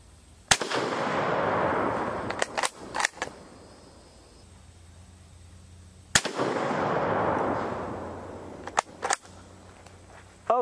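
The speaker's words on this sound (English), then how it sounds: "Let's send another. I want to see if we get any sort of consistency from this rifle." Rifle shots ring out outdoors, two loud sharp cracks each trailing off in a long rolling echo, followed by quieter clicks and clatter of working the action between shots.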